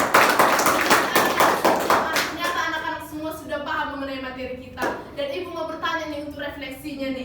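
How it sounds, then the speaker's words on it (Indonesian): Children in a classroom clap together in a burst of applause that starts loud and dense, then thins out, with a voice speaking over it as it fades. "Tepuk tangan dulu buat kita semua."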